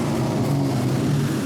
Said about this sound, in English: I do think I'm gonna replace the exhaust. It sounds great, it's just a little crusty.